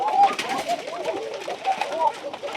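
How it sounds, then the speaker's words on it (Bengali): Domestic Koka pigeons at a pigeon farm, some nesting with eggs and chicks, coo in soft repeated throaty calls that overlap continuously at close range. "এই যে দেখতে পাচ্ছেন এগুলো হচ্ছে আমার আরও কবুতর"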